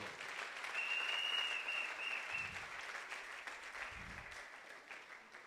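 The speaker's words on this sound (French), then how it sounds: "clap for the Lord?" A church congregation claps for the Lord during a French and English worship service, steady applause holding throughout at moderate level, with a faint voice drifting underneath.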